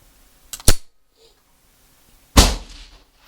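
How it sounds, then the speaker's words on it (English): Two loud, sharp shots from a Sig P365 .380 pistol at an outdoor target range, the first a double crack, the second a heavier report about two seconds later with a short echo tail. "10 shots, bottom right of each target, starting with our Sig."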